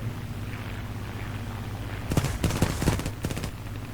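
War Thunder gunfire erupts over a low, steady engine drone, with several short bursts of rapid shots in the second half, fairly close and sharp.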